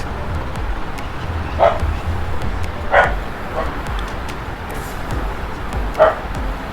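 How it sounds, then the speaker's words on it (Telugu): A dog barks somewhere outside, three short sharp yips spaced a second or more apart, heard over a steady low background hum. "బయట ఏమైనా డాగ్ సౌండ్స్ వినిపిస్తే"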